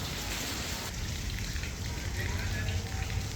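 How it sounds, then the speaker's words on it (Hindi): Rain pours suddenly and heavily near a vegetable seller, a steady, dense hiss of drops that stays loud and unbroken throughout. "बारिश आने लग गई अचानक से"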